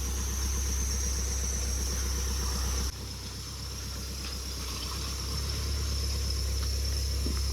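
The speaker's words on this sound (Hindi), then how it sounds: "बारिश में आवाज़ बहुत आती है गाड़ियों के इंजन से" A diesel car engine idles steadily in the rain, a continuous low rumble with a constant hiss of rainfall, the level dipping briefly partway through before holding steady, with no voices.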